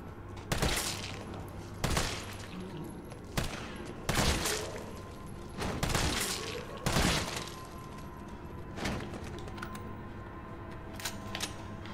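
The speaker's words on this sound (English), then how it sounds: "Good shooting, Tex." Gunfire in the video game Resident Evil 3: a series of loud, punchy shots spaced irregularly a second or two apart, fading to softer clicks and taps toward the end.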